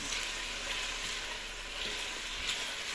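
Steady, dense sizzling of onions frying in hot oil in a pot, continuous and close, with no voices.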